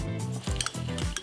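Garlic hitting hot extra virgin olive oil in a pan, a bright steady sizzle with soft metallic scrapes and stirring clinks close by.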